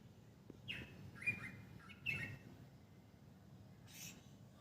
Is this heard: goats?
no